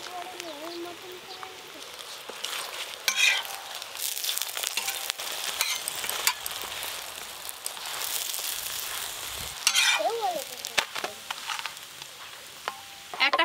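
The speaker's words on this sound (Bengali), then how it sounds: "এই যে ভেজে নেব। এবার ওপর দিয়ে আবার তেল দিয়ে দেব।" A paratha fries in hot oil as more oil is added on top, making a soft, continuous sizzle with scraping and clatter, partly under talk and birdsong.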